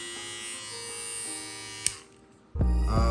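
A SUPRENT HC715 electric clipper/trimmer runs with a steady, close buzzing hum. There is a brief click near the middle, then a quieter lull, before the motor's drone returns louder.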